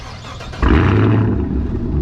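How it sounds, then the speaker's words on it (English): Outside view of a Chevrolet Camaro ZL1 with an AWE catback exhaust: a brief quiet lead-in, then a loud, deep exhaust rumble kicks in and holds steady near the microphone for the rest of the clip. "I'm gonna give you a sound of what it sounds like outside with the AW catback"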